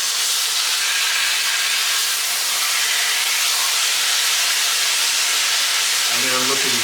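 Pork chops just flipped in a hot pan give a loud, continuous, close-up hissing sizzle, with a brief voice near the end.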